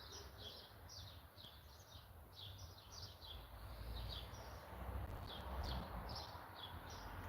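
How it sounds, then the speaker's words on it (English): Small birds chirp and twitter outdoors on a Portuguese morning, a series of faint high calls over steady low background rumble from distant traffic, no voices. "to include the sound of the birds"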